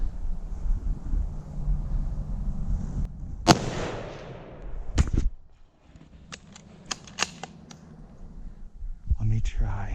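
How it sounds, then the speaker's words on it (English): A single sharp rifle shot from a hunter cracks out loudly in open country and decays quickly, followed later by softer clicks and handling noises, with wind rumble and quiet voices around it. "If you feel confident, squeeze off a shot."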